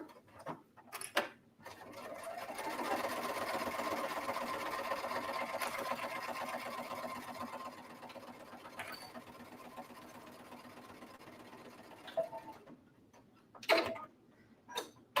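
A sewing machine top-stitches a fabric book pocket, a steady close whirring run of rapid stitching over several seconds, framed by faint handling clicks and knocks before and after.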